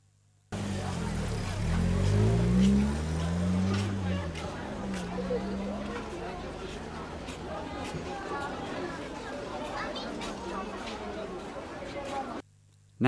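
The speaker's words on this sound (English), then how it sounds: "The car's positioned to the right of me and starts up. Then the car drives past the front of me and off towards the left." A car starts up off to one side and then drives past close by, the low engine note sweeping across and fading toward the other side, with faint background chatter.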